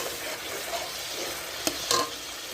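Spices fry in oil in a pan under a steady close sizzle, broken by a couple of sharp scrapes and clinks from stirring near the end.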